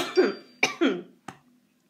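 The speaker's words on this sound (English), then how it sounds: "I don't know why I'm coughing all of a sudden." A few sharp, close coughs come in quick succession, followed by a shorter throat-clearing hack.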